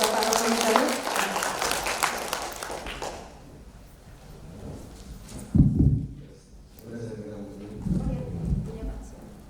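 An audience at a book talk claps for a guest speaker, a brief burst of applause that fades after a few seconds, followed by a quieter stretch and then someone speaking.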